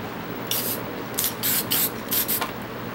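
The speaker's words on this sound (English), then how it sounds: "Gonna spray the whites" Several short hissing bursts of white spray paint from an aerosol can onto a canvas, each lasting a fraction of a second, fairly close, with brief pauses between sprays.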